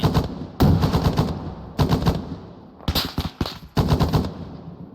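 Machine gun fire on a BRDM armoured vehicle in a military training exercise, heard as four loud sustained bursts of rapid shots with short pauses between them, close and forceful, with no talk.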